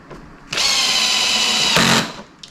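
A power drill drives a screw on a Honda Goldwing luggage rack install, a loud steady whine running about a second and a half, close up, with no talk.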